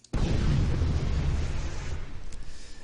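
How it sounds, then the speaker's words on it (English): A shock rifle combo blast in an Unreal Engine game: one loud, deep explosion that bursts suddenly and then decays into a crackling rumble, with faint electrical sparks near the end. "you fire out the little shock ball and then you shoot it with your shock rifle, and you get this grand explosion"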